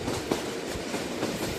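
Train carriage rolling along the tracks, a steady low rumble with soft rhythmic rail clatter, continuous and moderately close, no voices.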